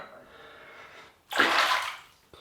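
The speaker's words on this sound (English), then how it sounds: "So we'll wet the face" Water splashed onto the face with the hands before a wet shave with a Henson AL13 double-edge razor, a single close, loud splash after a quiet stretch.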